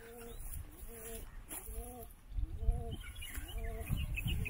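A pigeon coos beside a church in Elappara, Idukki, Kerala: about four soft, rounded coo phrases repeat close by at a steady pace over faint outdoor background noise.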